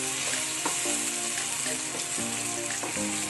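A potato fry sizzles in a pan with a continuous close crackling hiss. Light stirring clicks recur at intervals.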